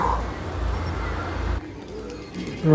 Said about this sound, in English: A lot of pigeons over here too.